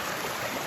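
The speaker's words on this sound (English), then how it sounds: "That water is just rushing down the side" A swollen mountain stream on the Appalachian Trail in Virginia rushes fast down a slope, heard as a brief, dense, even roar of water with no voices.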